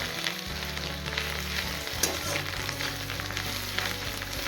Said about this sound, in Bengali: ডিমগুলো আমি একদম ভালো করে ভেজে নেব